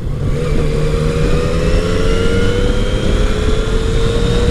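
A Yamaha FJ09 motorcycle on the road during Laconia Bike Week runs loud and close, its engine note climbing smoothly after a downshift, with no voices.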